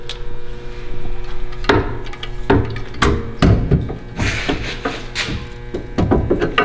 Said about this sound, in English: Where's your new hammer, Jack?